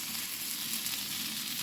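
Garlic, aubergine, potato and chillies fry in a pan with a steady, dense sizzle that stays close and even throughout, with no talking.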